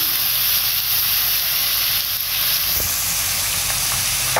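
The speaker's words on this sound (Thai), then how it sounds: "พริกแกงหอมแล้วจ้ะพี่น้องใส่กุ้งลงไปจ้า" Fresh shrimp dropped into fragrant fried curry paste in a hot pan, a loud continuous hiss and sizzle with a few knocks near the end, close up and without voices.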